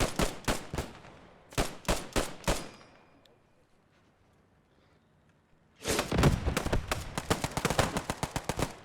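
Rapid bursts of gunfire in the video game Post Scriptum, loud volleys of sharp shots at the start, a brief lull with faint distant rumble, then dense sustained firing resumes toward the end.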